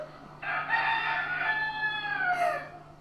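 A white cockerel crows once, a loud, drawn-out call of nearly two seconds that rises and then falls away, close by over a faint steady hum.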